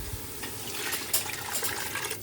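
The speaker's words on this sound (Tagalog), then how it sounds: "Then we're gonna add water." Water pours steadily into a hot pot of soup broth, a continuous splashing, gushing fill heard up close with no talking.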